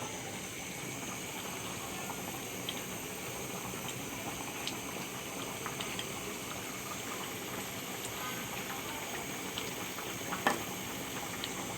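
Surma fish curry bubbles in a covered pot at a steady, even simmer, a continuous soft boil with no voices and only a faint clink near the end.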